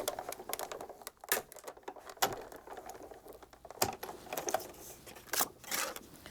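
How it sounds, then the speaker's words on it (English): A die-cutting machine rolling a paper tag through, giving a quiet, steady mechanical whirr broken by irregular clicks and small knocks, close by with no talk. "I'll run this through the machine and we'll cut that out"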